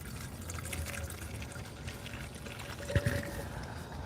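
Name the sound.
pouring premixed fuel from quart bottle with funnel top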